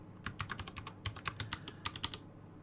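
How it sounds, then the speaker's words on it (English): Quick, uneven keystrokes on a computer keyboard sound close and fairly quiet, clicking in short bursts with no talking. "I'm going to type that in"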